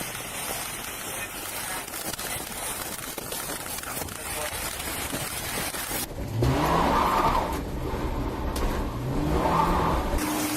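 A stolen police squad car races along snowy roads at high speed, its engine roaring in a steady, loud rush with brief tyre squeals and revving. The sound shifts partway through as the car moves on.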